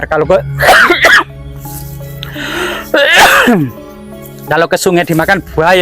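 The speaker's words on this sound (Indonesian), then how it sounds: "Jadi maaf ya batuk." A man coughs and clears his throat once in the middle, between stretches of his own talking, loud and close.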